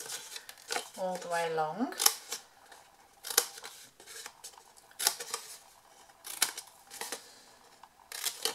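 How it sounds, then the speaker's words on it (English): Scissors snip little wedges out of paper for a folded blooming box craft, giving a series of crisp, close cuts spaced about a second apart while someone talks over them. "So just cutting our little wedges"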